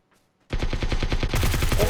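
Sudden automatic gunfire in PUBG: Battlegrounds after a moment of quiet, a rapid, loud, evenly paced burst of shots that continues and grows denser toward the end.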